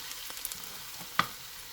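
Onions cooking in a pan for lumpiang hubad give a faint, soft sizzle, with a few light scrapes or stirring knocks and one sharper clink, heard quietly and alone.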